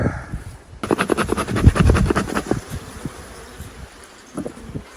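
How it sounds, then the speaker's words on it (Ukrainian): Gusty wind buffets close outdoors at an apiary, rising in a rough roar after a quiet start and then easing, with faint buzzing and rustle underneath. "Вітер посилюється, працюємо"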